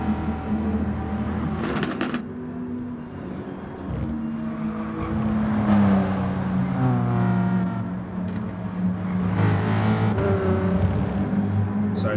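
The Peter Mac safety car from a racing video game circling Interlagos, a steady engine drone that rises and falls in pitch as it revs and shifts, with a whirring tone throughout.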